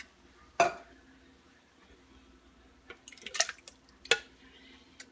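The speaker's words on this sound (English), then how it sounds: "I'm going to pour 2 cans into this pitcher." Two cans of tomatoes are poured into a pitcher: a handful of quiet, wet plops and faint clinks of can against container, separated by short pauses.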